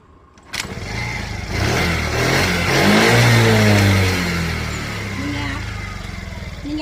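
A motorcycle fires up right after a kick start and revs hard. The engine note climbs and holds loud and close before settling to a steady idle, with a voice speaking over it.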